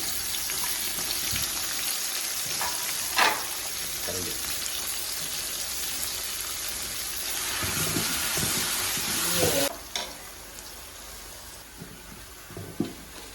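Onions frying in oil for homemade biryani, a steady loud sizzle and crackle that runs the whole time, with a few small clinks and bumps near the microphone.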